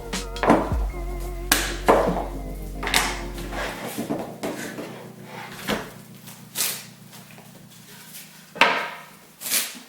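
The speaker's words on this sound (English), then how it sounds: "Getting jammed clamps here." Metal clamps are jammed and tightened onto a book block to hold it for edge spraying, giving several sharp knocks and clacks spread through the take, with a steady low hum beneath.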